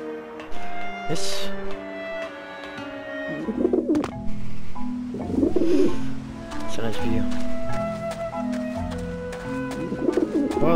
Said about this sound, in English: Lots of pigeons.